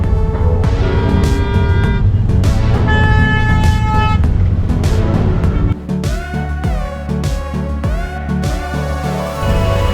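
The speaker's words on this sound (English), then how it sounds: "Look at this traffic." Dense city traffic in Lima, Peru, with car horns tooting repeatedly over engine noise, loud and close, the honks overlapping with a busier burst of horn tones in the second half.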